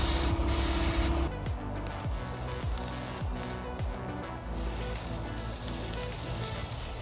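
A paint spray gun held wide open hisses loudly and continuously while spraying a boat in a backyard, with a sharp burst at the start easing into a steady spray alongside some low mechanical rumble.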